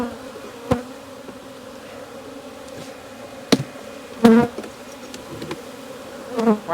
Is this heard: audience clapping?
no